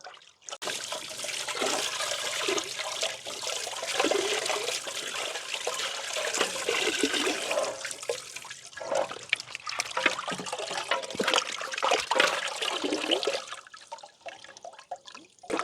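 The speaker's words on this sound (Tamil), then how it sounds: "நாங்கள் வந்து ட்ரெண்டு தண்ணியில் நல்ல வடிவாக கழுவி எடுத்துட்டோம்" Running water splashing and trickling steadily as chicken meat is rinsed and handled in it, close by, with sloshing bursts throughout and no voices.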